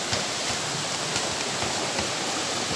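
Steady broadband rush of a flowing river near Kalulu Waterfalls, a continuous close wash of water with no voices.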